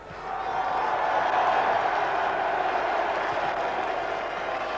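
Capacity crowd of 8,000 at a 1989 FA Cup football match welcoming Sutton United, a GM Vauxhall Conference club, against Coventry City: a broad, steady roar of cheering and applause that swells and holds, with a commentator's voice faintly under it.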